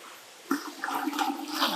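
Water and small livebearer fish, redtail blue hifin variatus platies, poured out of a container, a brief close splash and trickle lasting about a second.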